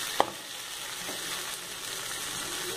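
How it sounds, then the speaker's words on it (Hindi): Moong dal frying in hot ghee in a pan, a steady soft sizzle throughout with one brief sharp clink near the start, no voices. "ये हमने मूंग दाल भून लिया है घी में"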